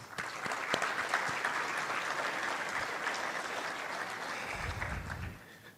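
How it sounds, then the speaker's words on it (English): A room full of people at a State of the City event applauds steadily, a broad even patter of many hands that holds at moderate level and then thins and fades out near the end. "give you a round of applause"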